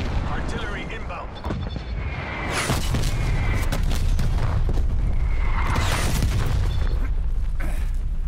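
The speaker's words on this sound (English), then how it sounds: "Artillery inbound." Heavy artillery strikes exploding in the video game Call of Duty: Black Ops Cold War, deep rumbling booms rolling one into another with a dense battlefield din and radio-style voice callouts layered over them.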